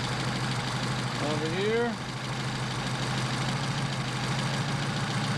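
A Mercedes 190SL engine with Solex 44PHH carburetors idles steadily, a low even rumble running throughout while someone speaks briefly over it.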